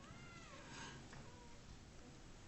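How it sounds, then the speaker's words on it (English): A house cat meows during a lecture, its call faint and brief over a steady room hum. "Oh, that's my cat."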